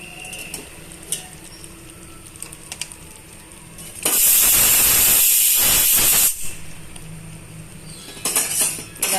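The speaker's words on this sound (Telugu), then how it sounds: "ఆ చికెన్ని ఇందులో ఈ గ్రేవీలో యాడ్ చేస్తున్నానండి" About 300 grams of chicken pieces go into a hot chicken curry gravy, setting off a loud sizzling hiss that lasts around two seconds, with light utensil clinks before and after.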